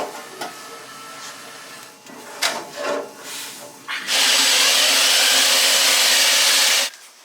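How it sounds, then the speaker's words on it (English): A power drill bores holes in a truck bed, with a few short scraping and rubbing bursts before a loud, sustained harsh drilling whir runs for about three seconds and then cuts off, close up with no talk. "I got the holes drilled for the airlines, for the wiring, and for the actual bolt-up situation"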